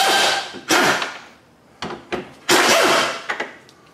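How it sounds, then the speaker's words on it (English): 10 mm bolts holding the grille on a 2000-2007 Ford Focus are loosened and removed, giving close, sharp metallic bursts and clicks in an uneven rhythm with brief pauses, no talking. "So we can go ahead and remove these bolts."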